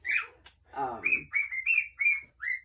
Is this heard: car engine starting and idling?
no